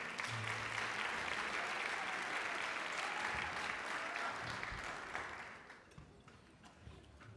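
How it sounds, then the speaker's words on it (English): Audience applause at a middle school winter holiday choir concert, a dense steady clapping from a full room that thins out and fades over the last couple of seconds. "So a round of applause for our parents and grandparents."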